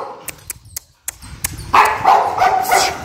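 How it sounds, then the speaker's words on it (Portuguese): Several dogs bark close by in short, sharp bursts, then break into a dense, continuous run of barking and yipping. "os cachorros estão latindo, não vai dar pra escutar nada."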